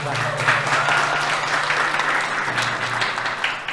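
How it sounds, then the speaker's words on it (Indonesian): Audience at an Isra Mi'raj commemoration event applauding, a dense continuous round of clapping from many hands that holds steady throughout, fairly loud and close. "Tepuk tangan untuk yang depan."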